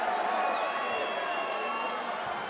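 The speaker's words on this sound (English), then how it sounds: "The Toulouse crowd willing on Le Bleu here" A big Toulouse crowd roars and cheers France on at a rugby match, a dense, steady wash of distant voices running under close commentary.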